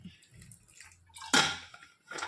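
Water splashes and pours into a pan of mushrooms being readied for boiling for a Tamil-style mushroom thokku, a brief loud gush after soft kitchen clatter, with a faint second pour at the end.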